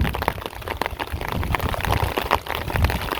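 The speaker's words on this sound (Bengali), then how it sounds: "টুসটুসিয়ে ফোঁটা পড়তেছে" Steady patter of raindrops falling outdoors during a sudden rainstorm near a village vegetable plot, a dense, continuous wash of small drips and taps at close range, with no voices.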